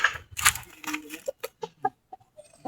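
A chicken clucks in a short series of close, distinct clucks, following a brief burst of rustling noise.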